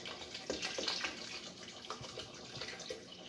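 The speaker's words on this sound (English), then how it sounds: "So I'm going to add more water to this." Water poured into a container while making a fat-burning cleanse drink, a steady splashing pour that is moderately loud at first and then settles into a softer, ongoing trickle.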